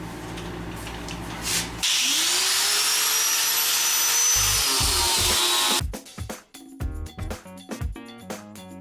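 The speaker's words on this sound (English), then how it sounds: "so I can grind off the paint here" Loud, steady grinding of paint off a body panel on a 1969 Chevy pickup, a continuous abrasive whine with a rising pitch sweep, then stopping abruptly and giving way to irregular clanks and knocks.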